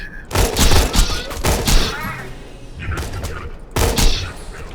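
Rapid automatic gunfire in Borderlands 2 as a full magazine is emptied into a target, firing in dense bursts with short gaps and a final burst near the end, with no talk over it.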